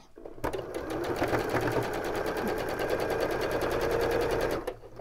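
A sewing machine stitches a patchwork block in a fast, steady, close mechanical chatter that runs for about four seconds and then stops, with no talking over it.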